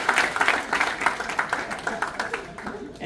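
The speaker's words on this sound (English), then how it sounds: "So let's give a round of applause, especially the what? Cheer for your parents, please." At an end-of-season junior high sports banquet, an audience applauds the parents with dense, steady clapping that fades a little over a few seconds, with no speaking heard.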